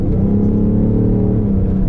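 A 2018 BMW X5 M50d diesel SUV with 400 horsepower driving, heard as a steady, loud, low engine drone and road rumble from inside the cabin.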